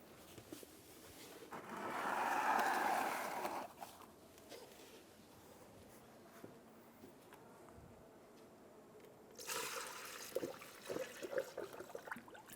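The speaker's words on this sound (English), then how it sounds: "I'm going to install a funnel to refill our coolant." Coolant pours through a filler funnel into the cooling system of a 2003-2007 Infiniti G35, a soft liquid rush swelling for a couple of seconds, then quiet handling noises and a second, briefer pouring burst near the end.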